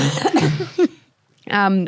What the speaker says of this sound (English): Speaking of COVID, I just coughed.